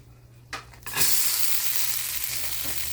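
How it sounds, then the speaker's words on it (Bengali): Chopped onion and green chili drop into hot oil in a pan and burst into a loud, steady close-up sizzle that keeps going after a couple of clinks and shuffles at the start, no voices. "পেঁয়াজ মরিচ ভেজে নিচ্ছি"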